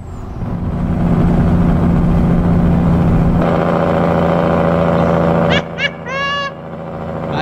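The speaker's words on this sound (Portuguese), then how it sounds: "Freio motor, escuta, quer ver? Ó o freio motor." A Volvo NL12 truck in Euro Truck Simulator, a nine-axle rig loaded with onions, its deep engine roaring steadily before the engine brake kicks in with a heavier droning rumble, then a few hissing air bursts at the end.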